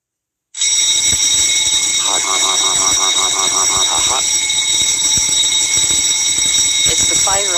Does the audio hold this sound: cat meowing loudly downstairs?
no